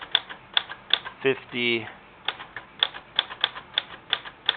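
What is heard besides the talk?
typewriter stenciling amounts on a check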